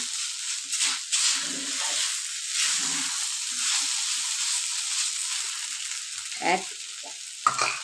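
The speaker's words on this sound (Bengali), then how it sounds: "সাবুদানাগুলো ভালো মতো কুক করে নিচ্ছি।" Sago pearls cooking and being stirred in a pan give a steady close sizzle and frying hiss, with scraping stir sounds throughout.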